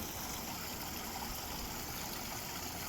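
A backyard pond waterfall pours over rearranged rocks in a steady, even rush of running water with no breaks, close by and alone.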